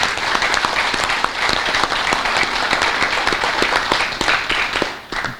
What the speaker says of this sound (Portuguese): E quero deixar uma grande salva de palmas